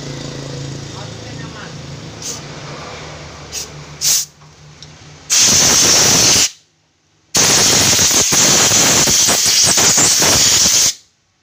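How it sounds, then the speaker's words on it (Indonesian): Compressed air blasts onto a cleaned motorcycle carburetor during servicing, two loud sustained hissing bursts of a second or more each, separated by a brief pause, after quieter workshop background. "Kita semprot angin dulu"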